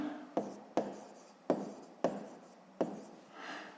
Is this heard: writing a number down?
yes